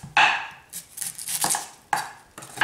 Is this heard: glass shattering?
no